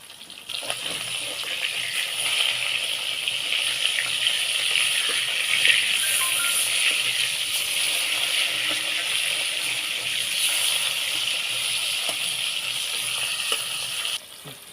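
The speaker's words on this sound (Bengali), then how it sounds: "মাছটা ভাজা হতে থাকুক" Katla fish pieces frying in hot oil give a steady, close, crackling sizzle that holds evenly for about fifteen seconds with no one speaking.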